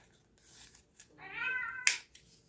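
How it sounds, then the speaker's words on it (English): A phone ringtone of a recorded cat meowing plays once, a clear drawn-out meow ending in a sharp click, heard in a quiet indoor room during a cardboard crafting session. "I got a cat meowing for my phone if somebody calls or messages me"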